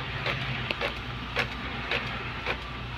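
An Epson L3150 inkjet printer prints a test page after head cleaning, giving a steady mechanical hum with repeated soft clicks and knocks from the moving print head, close and fairly quiet.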